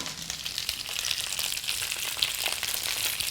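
Fresh asparagus sizzles in melted butter in a pan on the stove, a steady bright crackle and hiss with small pops, close and continuous throughout.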